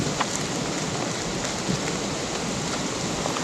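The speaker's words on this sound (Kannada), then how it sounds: "ಮಳೆ ಸಿಕ್ಕಾಪಟ್ಟೆ ಜೋರು ಬಂತು." Heavy rain pours steadily during a motorcycle rain ride in coastal Karnataka, a dense, even hiss of downpour filling the air with no voices.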